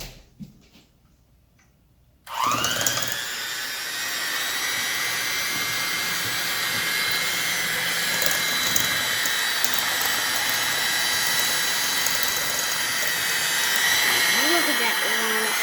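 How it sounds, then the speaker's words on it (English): An electric egg beater whirs into almond flour brownie batter after a short quiet start, running loud and steady close by with a constant high motor whine for the rest of the clip. "now I can mix it all with the egg beater"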